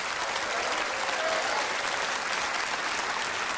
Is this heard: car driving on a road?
no